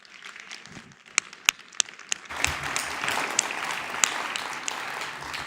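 After a few isolated claps, an audience at a Spanish-language forum on freedom of expression bursts into loud, sustained applause for the speakers, with sharp individual claps standing out from the dense clapping.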